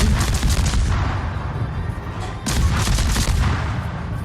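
Naval guns on a warship fire in World of Warships, heard as dense, continuous booming salvos that roll together into a loud, heavy rumble, with no talking.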